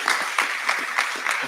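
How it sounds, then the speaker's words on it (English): An audience applauds at a documentary premiere, the clapping steady and moderately close with a few louder bursts. "A round of applause for the"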